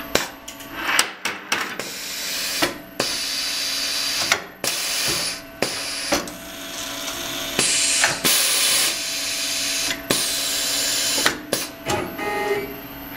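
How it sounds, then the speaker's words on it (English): Denford 12-tool automatic tool changer carousel on a CNC machine spinning alongside its spindle motor, a run of mechanical clicks, ratcheting clunks and whirring in an irregular rhythm, close and fairly loud with no talking. "the carousel actually spun in the counterclockwise direction that time"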